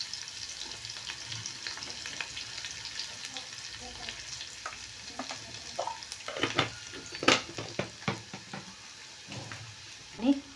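Garlic and Agri masala frying in a pan for a karli fish curry, a steady crackling sizzle with occasional stirring clinks and scrapes growing sharper toward the end.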